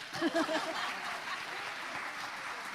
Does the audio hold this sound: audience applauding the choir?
yes